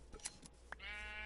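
A single short animal bleat from a Minecraft sheep, followed by a steady bright electronic hum; no talking.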